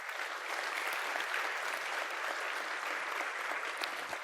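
Audience applause at a conference closing, a dense, steady wash of clapping from a large crowd that carries on without a break, with no talk over it.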